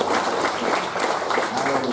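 A church congregation claps for God, a short dense burst of applause mixed with some voices.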